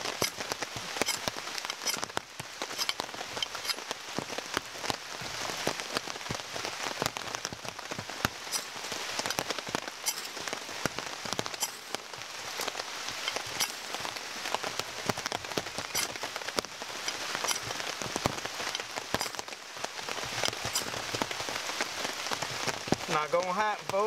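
Steady rain patters on a canoe in a swamp, a dense, continuous hiss of drops hitting the hull and water at close range, with no clear breaks throughout.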